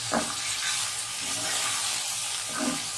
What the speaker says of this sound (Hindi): अब अदरक लहसुन और प्याज के साथ इसको भून लें।